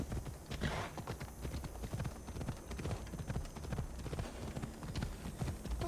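A horse gallops in the video game Assassin's Creed Odyssey, its hooves beating a fast, continuous rhythm that stays loud and close throughout.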